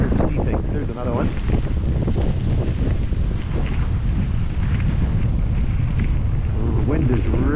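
Strong wind buffeting a microphone outdoors near a rail line, loud continuous rumbling gusts that fill the whole clip, with a voice faintly mixed in underneath.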